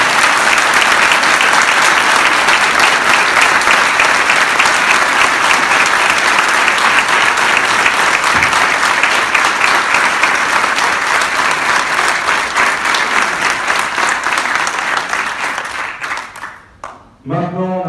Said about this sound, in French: j'aimerais qu'on lui fasse un tonnerre d'applaudissements